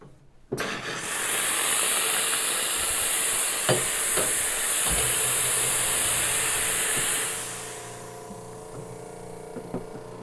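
A steam wand on a Slayer Steam X espresso machine bursts into a loud, steady hiss that holds for about seven seconds, then cuts off, leaving faint clicks and handling sounds.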